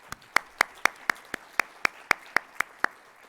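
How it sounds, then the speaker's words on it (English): An audience at a health symposium claps for volunteers and staff, sounding as about a dozen evenly spaced, distinct single claps, sparse and fairly quiet, with no talk. "Let's also give them a round of applause."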